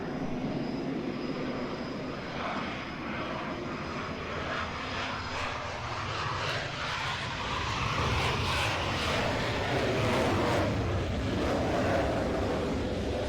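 Eurofighter Typhoon jets fly past with a rising, swelling roar of jet engine noise that builds toward a louder peak midway and stays strong, heard alone with some wind buffeting.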